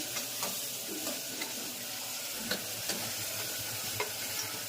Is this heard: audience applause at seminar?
no